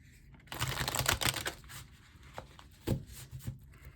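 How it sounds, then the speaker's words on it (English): Quick riffling and flicking of playing cards being shuffled, a burst of crisp papery clatter followed by a few shorter snaps, close by. "So I'm just going to do a quick shuffle of the cards."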